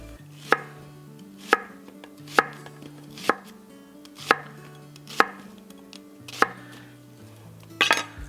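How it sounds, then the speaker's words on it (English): A knife slices an onion into rings on a cutting board, giving about eight crisp, evenly spaced chops at roughly one per second, close and clear over a quiet background with a faint low hum. "I think I'll just cut it like this, and I'll make these little rings."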